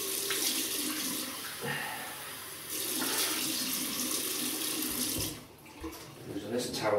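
A tap runs into a sink as someone rinses off after shaving. The water gushes close and steady, then dips briefly and sounds uneven near the end, with faint handling noise.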